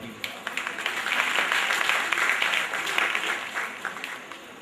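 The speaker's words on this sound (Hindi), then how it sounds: "मैं आप सबसे अनुरोध करना चाहूँगा कि एक जोरदार ताली हो जाए।" Audience at a children's theatre festival breaks into a hearty round of applause, with clapping swelling and staying dense throughout, and faint voices mixed in.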